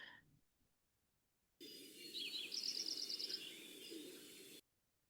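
Lincoln's sparrow singing its bubbling warble song in a marsh, a faint high chattering phrase of rapid notes lasting a couple of seconds over a steady low background hum.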